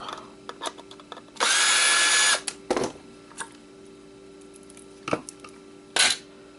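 A power drill unscrewing parts from Xbox hard drives gives one loud, sustained whir lasting about a second, followed by several short bursts and clicks of handling and parts.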